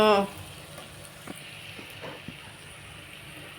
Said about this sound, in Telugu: ఇప్పుడు పీతల కూర వండుతున్నాను